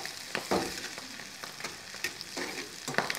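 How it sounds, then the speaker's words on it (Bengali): Chopped tomato frying in a pan for pulao gives a steady close sizzle, broken by short scraping bursts of stirring and no voices. "এবার আমরা টমেটো কুচিটাও দিয়ে দেবো টমেটোটা একটু ভাজা হলে"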